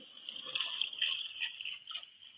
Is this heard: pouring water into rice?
yes